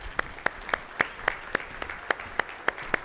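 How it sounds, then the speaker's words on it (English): A studio audience at a health business event claps in a steady, evenly spaced rhythm, each sharp clap standing out distinctly rather than merging into a roar. "Let's give her a round of applause."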